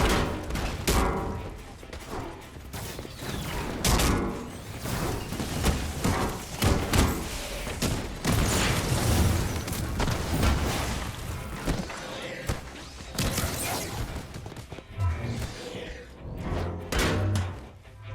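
Rapid gunfire and heavy impacts from combat in the video game Marvel's Avengers, a loud, dense barrage of shots and thuds continuing with little pause under a busy soundtrack.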